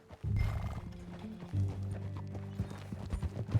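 Horse hooves clip-clop in Red Dead Redemption 2 as the riders set off, with a short neigh-like call over a steady run of hoofbeats and no talking.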